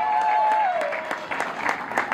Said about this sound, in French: des acclamations pour la reine